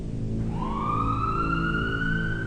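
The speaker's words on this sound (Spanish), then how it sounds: "El sonido de una sirena cortó el aire desde la parte baja de la avenida" A police siren winds upward in pitch and holds a wailing tone, heard over a low traffic rumble.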